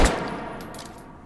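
A single sharp Glock 17 pistol shot in the VR game Hot Dogs, Horseshoes and Hand Grenades, loud and close, with a metallic ring fading over about a second.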